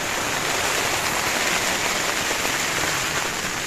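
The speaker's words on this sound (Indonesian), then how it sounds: "Sekarang aja masih hujan." Steady rain pours down on a mountain trail during a hike, a dense, even wash of drops on the ground and gear that stays loud and unbroken throughout, with no voices.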